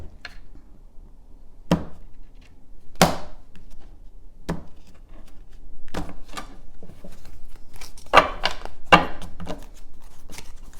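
A tarot deck being cut and handled, giving sharp, separate card snaps and taps at irregular intervals over a quiet background.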